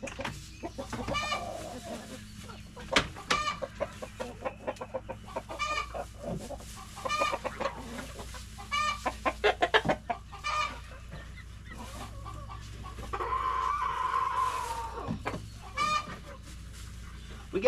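Hens cluck around three nest boxes in a coop, a run of short repeated clucks and squawks rising and falling over several seconds, fairly close, with some louder bursts and no voices.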